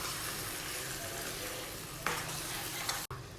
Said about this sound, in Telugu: ఇవన్నీ కూడా మరొకసారి బాగా కర్రీ అంతా మిక్స్ చేసుకోవాలండి